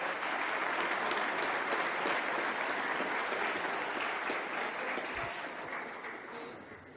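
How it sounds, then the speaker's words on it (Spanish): Sustained applause from a large conference audience at a tax panel, a dense wash of clapping that holds steady and slowly fades toward the end. "agradecemos y despedimos a los maestros con un aplauso"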